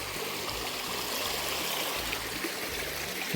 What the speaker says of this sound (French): De toute façon vous voyez bien qu'il y a la rivière.